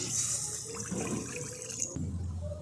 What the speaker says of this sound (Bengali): এবার কড়াতে দিয়ে দিচ্ছি 1 বাটি জল।